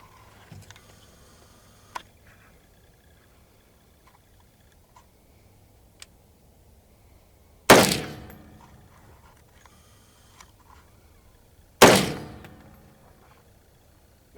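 Two loud 5.56 rifle shots from a Diamondback AR fired at brake plates, about four seconds apart, each a sharp blast with a long fading tail, amid faint ticks and clicks and no talking.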